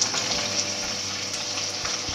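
Three to four roughly chopped onions hitting hot oil in a pan for Hyderabadi paneer masala, a steady bright sizzle and crackle running continuously close up, with occasional soft stirring bumps and no talk.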